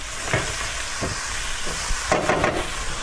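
Bacon and tater tots frying together in one pan, giving a steady hiss and sizzle with a few brief louder crackles, close by.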